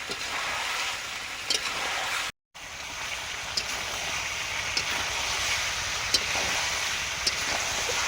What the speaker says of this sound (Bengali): মাংস কষানো মোটামুটি হয়ে এসছে, এবার জল দেবো। তার আগে এই যে আলু দিয়ে দিচ্ছি।